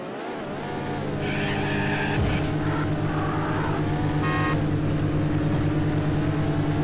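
Racing cars in the Need for Speed video game, engines droning steadily loud with shifting pitch and brief tire squeals, close and continuous with no talk.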